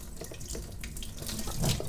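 Water runs steadily from a bathroom tap into a sink, a continuous close splashing stream set cool to lukewarm for rinsing acrylic paintbrushes, alone with no talk.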